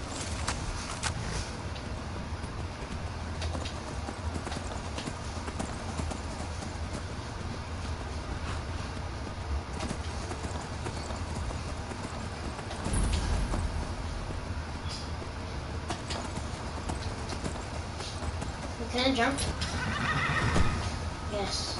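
A horse in the Skyrim video game whinnies and its hooves clip-clop steadily on snowy ground, with game ambience throughout and louder neighs near the end.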